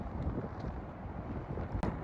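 Strong outdoor wind buffets the microphone in a steady, loud low rumble lasting the whole stretch, with a brief gust spike near the end and no talking.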